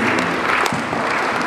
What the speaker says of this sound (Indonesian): tepuk tangan buat Pak Agung.